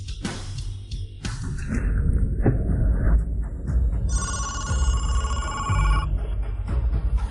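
A telephone rings with a bright, warbling electronic tone in the second half, over busy background clatter and muffled activity.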